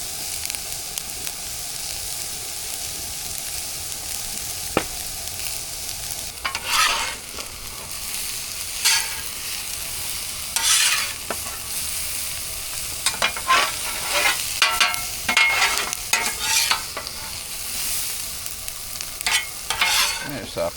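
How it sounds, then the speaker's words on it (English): Onions and peppers frying in a pan for a steak stir fry give a steady sizzle throughout, with scattered louder crackles and occasional stirring clatter, close by and with no talking. "Cook up some onions and peppers."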